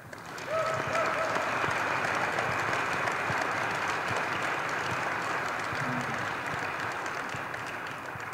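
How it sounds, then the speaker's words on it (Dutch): Applause at a football club press conference, a dense, steady wash of clapping that fills the room and fades slightly toward the end, with no speech over it. "Waarvoor graag een applaus."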